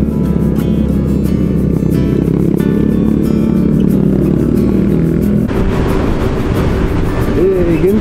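A 125cc motorcycle engine drones steadily at close range with rushing wind on a bypass road, the tone shifting partway through as the ride continues.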